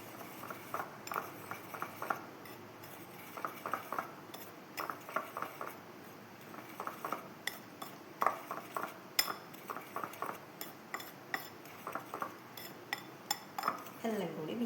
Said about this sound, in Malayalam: അപ്പം എല്ലാം കൂടി മിക്സ് ചെയ്യട്ടെ ഞാൻ